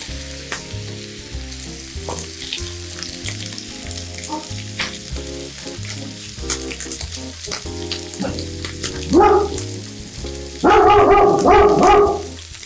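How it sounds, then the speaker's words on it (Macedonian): Chopped onions fry in a pot in a home kitchen, a steady sizzle running under background music, then a dog barks loudly in two short bursts near the end. "во истото тенџеро ќе му дадам на крумидот сам малку да се пржи пред да го соединам"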